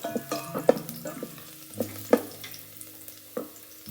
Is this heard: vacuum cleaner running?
no